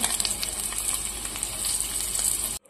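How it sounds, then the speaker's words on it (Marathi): Eggs fry in oil in a kadhai, a bright continuous sizzle with crackling pops, close and steady until it cuts off abruptly at the end. "या ठिकाणी आपली अंडी छान फ्राय झालेली आहे."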